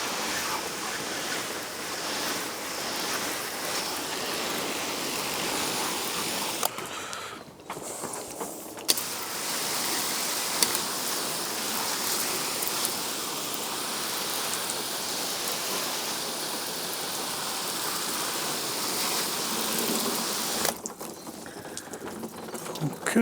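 Heavy simulated downpour from a garden hose drumming on a Keter Store It Out Midi 880 litre outdoor plastic storage box, a dense continuous hiss that cuts out briefly twice.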